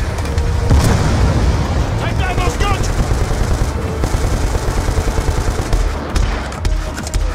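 Machine gun fire from a gunner in the Call of Duty: Black Ops 2 video game, dense bursts of automatic fire mixed with booming explosions throughout, loud and continuous, with a player's voice talking over the battle.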